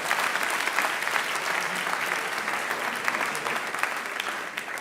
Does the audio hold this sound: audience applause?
yes